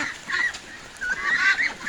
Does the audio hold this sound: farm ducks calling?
yes